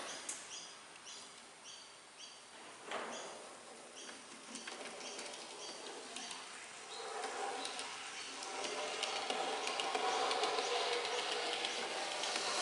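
A small DCC-fitted 00-9 scale model locomotive runs around layout track. Its thin, buzzing motor whirr and faint track rattle build steadily and grow louder toward the end, with no voices.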